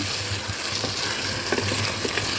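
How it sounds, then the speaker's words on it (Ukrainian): Cream warming in a pan for rabbit in sour cream is stirred, a soft, continuous sizzle and bubbling with faint spoon scrapes, close and quiet with no talk. "Зараз помішуємо"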